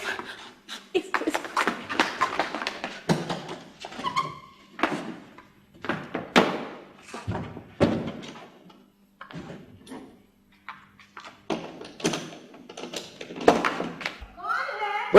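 Police pounding on a house door in an old PTV drama, heavy thuds breaking up loud, urgent voices that talk and shout throughout.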